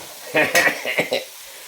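Vegetables for pakbet stirred and frying in a pan: a few close, brief scraping and sizzling bursts in quick succession, then quiet.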